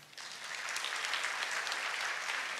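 Church congregation bursts into applause during a sermon, clapping swelling up quickly after a near-silent start and continuing as a dense, even wash, moderately distant.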